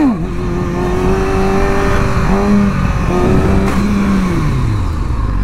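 A car engine revs loudly, pitch climbing and dipping through a couple of surges as it accelerates in a low gear, close by.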